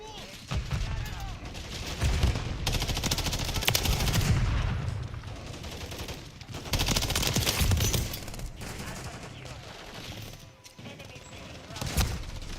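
Automatic rifle and machine-gun fire rattles through a Call of Duty Modern Warfare III multiplayer match, repeated bursts and fusillades of varying loudness across the whole stretch, with in-game voice chatter mixed in.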